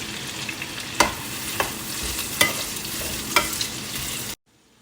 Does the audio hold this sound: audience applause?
no